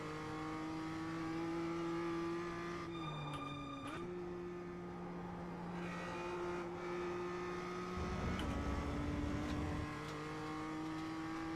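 A race car engine in a racing video game drones steadily at high revs, dipping briefly on a gear change and climbing again, with a steady tonal whine and nobody talking.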